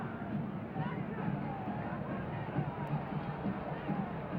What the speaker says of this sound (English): The crowd is yelling.